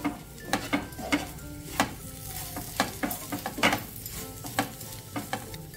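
A spoon stirs okra curry in a frying pan, sending out irregular sharp scrapes and clinks against the metal over a faint sizzle, close and with no talking.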